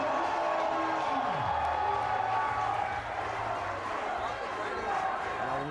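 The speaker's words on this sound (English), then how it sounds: "you can hear the crowds again shouting" A crowd at a competition cheers and shouts in a continuous roar, with a commentator's voice talking over the din throughout.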